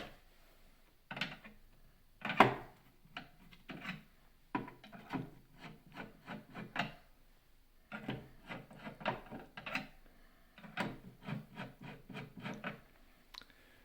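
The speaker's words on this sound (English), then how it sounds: "remove or loosen the 4 motor cover screws." Screws are loosened on the motor cover of a Premier tilting chocolate refiner, heard as quiet close clusters of ratcheting, scraping clicks in irregular runs with short pauses between.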